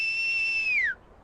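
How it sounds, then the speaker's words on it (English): A single clear whistle held steady at one pitch for nearly a second, then sliding downward and stopping, alone with no talk, as someone on a farmyard calls out. "Roy whistled and called"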